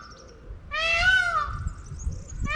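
A peacock calls from high in a tree at a garden in Portugal, one loud nasal wailing cry rising and falling for about a second, with soft outdoor background noise and a faint second call at the end.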